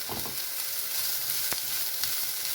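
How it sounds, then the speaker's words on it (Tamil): Steady oily sizzling of vegetables frying in sesame oil in a pan, a continuous crackle with a couple of brief sharper pops, no voices. "இப்போயும் நல்லெண்ணெய் ஊற்றி தான் நம்ம இதை வதக்கிறோம்"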